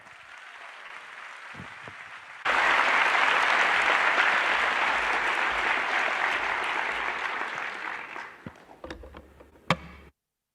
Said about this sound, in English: A warm round of applause, please, for Fulufelo Nelwamondo.